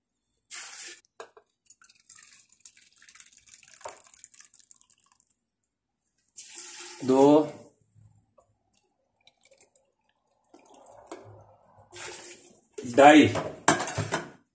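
Hot water is poured into a pot of mutton mince cooking with peas and potatoes, amid clinks of metal utensils and short drips and splashes, with a few brief voice sounds breaking in between quieter stretches.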